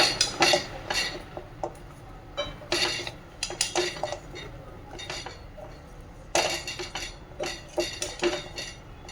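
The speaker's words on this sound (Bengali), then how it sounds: "এটাকে নাড়াচাড়া করতেই থাকতে হবে এদিকে এখন মল্লিকা এই যে এটা নাড়াচাড়া করছে" Jaggery and fried dough strips being stirred in a pan for gur murali, with repeated metallic scraping and clinking of a spoon against the pan in uneven bursts, close and fairly loud.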